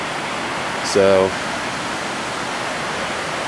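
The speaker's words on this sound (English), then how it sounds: "the waterfall down there" A waterfall far below on a North Cascades backpacking trail gives a steady broadband rush that fills the background, with a brief spoken word over it.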